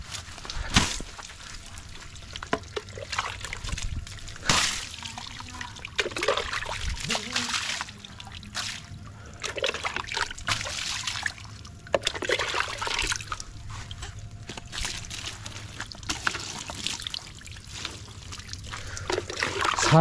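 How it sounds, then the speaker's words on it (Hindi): Water is sprayed to clean surfaces on a rainy day, with irregular splashing, hissing bursts and trickling close by, rising and falling in uneven patches. "ऐसे पानी मारना चाहिए वरना अंदर तक साफ नहीं होगा।"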